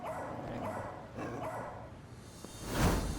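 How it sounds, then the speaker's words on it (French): A dog barks a few sharp times indoors in a dramatic scene, close and fairly loud, followed by a brief rustling burst. "Et pourquoi Pluton lui aboie dessus?"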